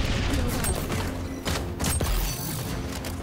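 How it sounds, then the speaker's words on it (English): Marksman rifle fire in the shooter game XDefiant sounds as a few sharp cracks and thumps over a busy, noisy battle mix, with someone talking under it. "My god, this marksman rifle is so good!"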